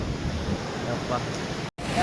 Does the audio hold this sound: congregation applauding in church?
no